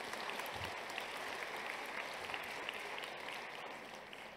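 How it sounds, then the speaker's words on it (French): Audience applause after an academic talk on prevention research, a steady, dense wash of clapping from a hall audience that holds at an even level throughout, with no voices over it. "On vous applaudit."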